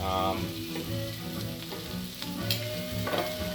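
Beef burger patties sizzle and fry on a BBQ, a steady loud crackling hiss with clattering and scraping of utensils stirring and turning the food, no talking.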